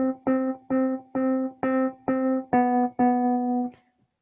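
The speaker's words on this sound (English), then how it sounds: "the Bach violin sonata, Largo movement has a melody which sounds like this" The melody of the Largo from a Bach violin sonata: seven sustained notes played one after another with short gaps, clean synthetic tone, close and moderately loud, ending abruptly.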